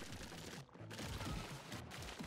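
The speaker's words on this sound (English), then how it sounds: "I thought I would try the laser cannons because they added a new noise for the weapon." Laser cannons fire in the video game Crab Champions, a dense, continuous barrage of rapid zapping shots with two brief gaps, loud and close with no talking.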